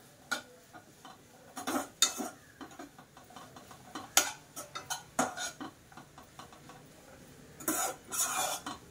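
Spice powder being mixed into mango rice with a spoon in a pan, giving faint, intermittent scraping and clinking strokes in short bursts against a quiet kitchen.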